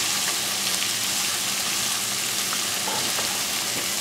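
Onion cooking down in a hot pan for a steak dinner gives a dense, even, close sizzle that holds steady without pause and with no speech over it.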